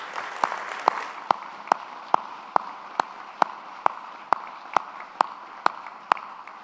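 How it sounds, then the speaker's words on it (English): A small audience at a US Senate agriculture appropriations field hearing gives thanks with sparse applause, about fifteen separate, evenly paced claps that sound thin and somewhat distant over quiet room noise. "maybe we could have a round of applause for these outstanding witnesses"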